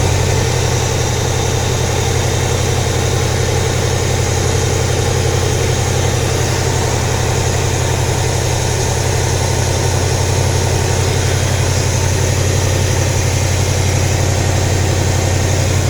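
A cheap aftermarket engine with a fuel leak idles steadily at a fairly high speed while warming up, a constant close, loud rumble with vibration and no break for the whole stretch.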